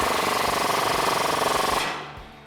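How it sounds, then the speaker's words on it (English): A rapid, loud impact-wrench hammering runs steadily while a 19mm deep socket drives a lower strut bolt on a Toyota Tacoma during a front leveling kit install, then cuts off abruptly near the end. "Next, we can tighten up this lower bolt here. I'm gonna use a 19mm deep socket."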